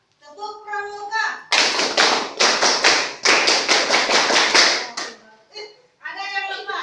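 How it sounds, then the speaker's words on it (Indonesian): Students in a classroom clap out the Pramuka scout pattern together: a loud burst of rapid group claps broken by short pauses, with children's voices just before and after. "Coba tepuk pramuka."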